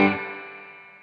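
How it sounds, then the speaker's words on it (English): A guitar through the IK Amplitube 4 amp simulator with spring reverb: a single struck chord that rings out and slowly decays into a long, shimmering reverb tail. The tone is slightly driven, and no one talks. "You can hear that there's a spring reverb in here"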